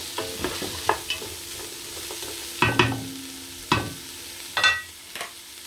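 Spring roll vegetables are stirred and tossed in a pan, with soft scraping strokes and brief clatters at irregular intervals over a faint sizzle, close and fairly quiet.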